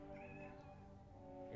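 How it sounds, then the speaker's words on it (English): A single drawn-out meow from a pet cat, fairly close, over a faint background hum with no talk. "Did you guys hear that meow?"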